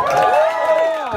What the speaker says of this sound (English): Don't cheer for him.